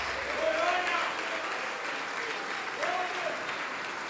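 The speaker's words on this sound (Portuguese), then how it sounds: "Vamos aplaudir mais, vamos aplaudir mais." A church congregation applauds steadily in a large room, with broad, sustained clapping at moderate level and scattered voices and cheers rising within it.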